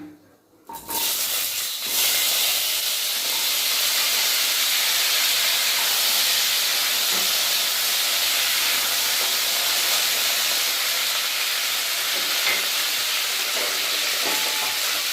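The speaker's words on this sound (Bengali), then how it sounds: "আমটা একটু ভাজা হোক" Cut raw mango pieces hit hot oil already spiced with five-spice seeds and dried chilli, giving a sudden loud burst of sizzling that settles into a continuous, close, even hiss.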